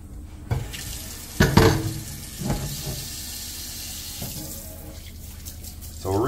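Water runs from a sink tap with a steady splashing flow, broken by a few loud clunks and bangs of dishes being handled nearby.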